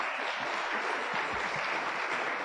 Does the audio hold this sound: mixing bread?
no